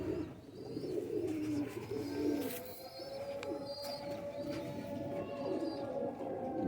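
A breeding pair of pigeons coos softly in repeated low, rolling phrases, faint and close, against a quiet background.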